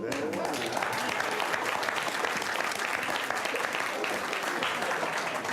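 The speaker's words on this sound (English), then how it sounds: "Let me finish before you clap" Sustained audience applause at a book launch with a former Nigerian president, a dense, even roar of many hands filling the room for several seconds, with voices faintly mixed in.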